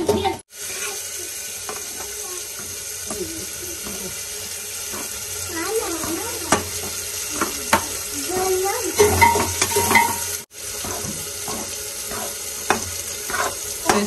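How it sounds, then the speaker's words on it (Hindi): Semolina roasting in ghee is stirred steadily in a pan, with a continuous soft sizzle, scraping strokes and a few clinks, close by and fairly even throughout. "इसको सूजी को खूब भूनते हैं जब तक इसका कलर चेंज ना हो जाए"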